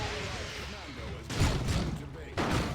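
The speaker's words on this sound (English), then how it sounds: "Creeping barrage from King of Pythons" Artillery barrage in Dawn of War 2, a Warhammer 40k strategy game, heavy thudding blasts landing in a couple of bursts amid battlefield din.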